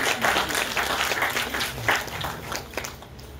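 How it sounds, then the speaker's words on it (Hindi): A crowd at a Red Cross event claps in a burst of steady, scattered applause that fades slightly toward the end. "मैं आप सभी का जोरदार तालियों से स्वागत चाहता हूं"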